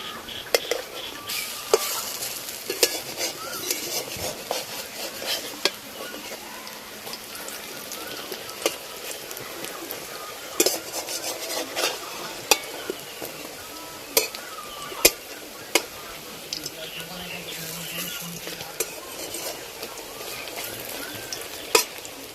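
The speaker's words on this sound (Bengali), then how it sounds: "বড়ার এক পিঠ ভাজা হয়ে গেছে, এবার বড়াগুলো উল্টে দেবো।" Thankuni (pennywort) leaf fritters sizzle steadily in hot oil in a pan, with scattered clicks and scrapes as they are flipped, continuous and close throughout.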